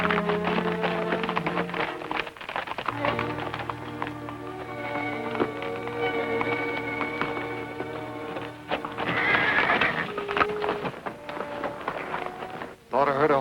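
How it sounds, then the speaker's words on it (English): A horse whinnies amid a busy 1941 Western soundtrack, its shrill neigh rising briefly near the end over sustained orchestral music and background noise. "Thought I heard a horse whinny."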